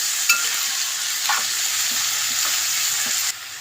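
Brinjal pieces with a pinch of turmeric sizzle in a pan for a brinjal curry, stirred with soft scraping strokes over a steady, close frying hiss that suddenly drops away near the end.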